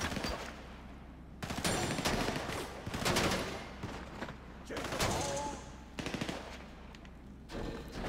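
Rapid automatic gunfire in the video game GTA Online crackles in repeated bursts of several seconds each, fairly dense but at moderate level against a constant low hum.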